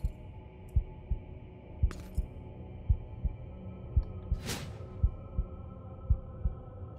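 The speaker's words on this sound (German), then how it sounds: "Ich höre hier doch einen Herzschlag." A video game heartbeat in the action game Unworthy, a steady low double thump repeating about every second and a half, clear and close over a faint hum, with a brief whooshing swell partway through.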